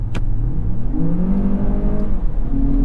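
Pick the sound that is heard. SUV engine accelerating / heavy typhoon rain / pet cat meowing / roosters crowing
SUV engine accelerating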